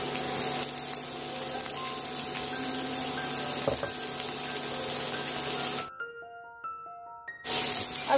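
Onion, ginger, garlic and chopped green chilli sizzle and fry in a pan for egg bhurji, a steady close hiss with soft stirring scrapes that breaks off briefly near the end before resuming.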